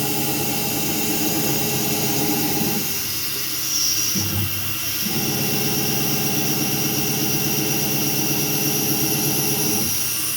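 The spindle of a Langmuir Systems MR-1 CNC mill runs at 8,000 RPM while machining soft jaws for a vise, making a loud, steady high-pitched whine and hiss with brief dips in the cutting sound. No one speaks.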